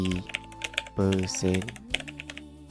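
Fingers tap out a command on a computer keyboard in quick, light, close-up keystrokes, while someone talks over the typing.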